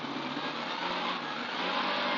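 A classic rally car's engine drones and revs loudly and steadily in an empty parking lot while being thrown into oversteer, with no break in the sound.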